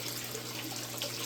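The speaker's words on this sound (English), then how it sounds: "it is definitely pumping murky water into the freaking tank" A DIY koi pond filter pumps murky water into a tank, giving a steady, close rushing and splashing of flowing water, unbroken and without talk.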